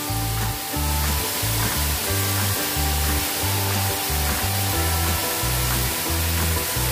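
Curry leaves and onion with a pinch of salt sauté in a pan for a fish curry, giving a steady broad sizzle throughout with low, blocky musical tones underneath.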